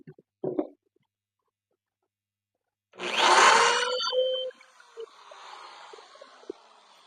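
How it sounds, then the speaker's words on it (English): A power drill bores a hole in a single loud burst of about a second and a half, then spins down and trails off into faint rustling. Quiet pauses and a short knock come before it. "Okay, it definitely drills a hole."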